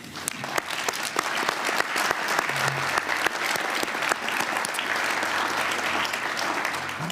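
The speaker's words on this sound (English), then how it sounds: "let's give a concluding applause to the panelists once again" A conference audience gives the panelists a closing round of applause, a full, steady wash of many clapping hands with occasional crisper near claps, sustained throughout.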